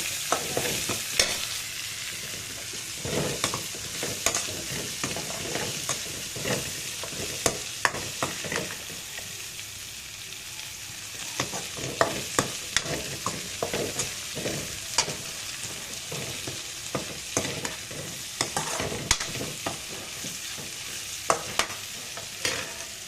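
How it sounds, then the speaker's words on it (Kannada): Bitter gourd frying and being stirred in a pan for Karnataka-style bitter gourd palya, with a steady sizzle and repeated scraping spoon strokes throughout, close and moderately loud. "ಇವಾಗ ಹಾಗಲಕಾಯಿ ಹಾಕೋಣ. ಎಲ್ಲ ಒಂದ್ಸರಿ ಮಿಕ್ಸ್ ಮಾಡಿಬಿಟ್ಟು"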